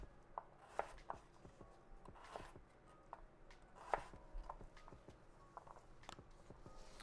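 Root vegetables for borscht are sliced on a cutting board, a series of crisp, irregular knife chops and taps, close and fairly quiet, with no talking.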